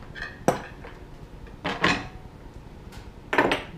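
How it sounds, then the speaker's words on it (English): A metal wrench firmly snugging a nut onto the threaded center rod of a 21-inch Maxi thread storage carousel, heard as three or four sharp metallic clinks and taps spaced apart, close and fairly quiet. "Take your wrench and firmly snug that into place."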